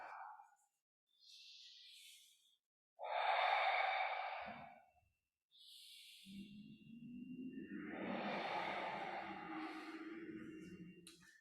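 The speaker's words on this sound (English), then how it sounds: "Nice breath into our crocodile breathing." Crocodile breathing exercise in a shin box position during movement therapy: several close, audible breaths, each a soft airy inhale followed by a longer, rougher exhale, with brief quiet pauses between and no talking.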